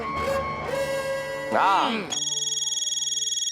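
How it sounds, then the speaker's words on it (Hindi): A phone ringtone starts after a moment of voices and music, a steady pulsing electronic ring repeating rapidly for over a second until cut off. "अय्यर का फोन है।"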